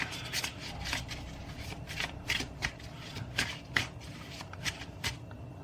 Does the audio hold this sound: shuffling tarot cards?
yes